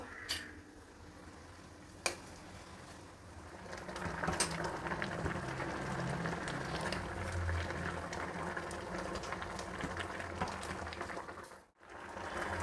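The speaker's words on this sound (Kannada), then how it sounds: "ಈಗ ಸೊಪ್ಪು ಕಾಳು ಬೇಯ್ತಾ ಇದೆಯಲ್ಲ ಒಂದು ಟೊಮೆಟೊನ ಇದರಲ್ಲಿ ಹಾಕ್ತೀನಿ ಅದು ಕೂಡ ಬೇಯಬೇಕು" Amaranth greens and lentils simmer in a pot with tomato, making a faint, steady bubbling and low rumble that runs throughout with a brief dip near the end.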